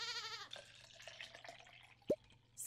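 Goats bleating in the Stardew Valley farming game, with a harmonic bleat at the start and a sharper short call near the end over soft ambient game sounds.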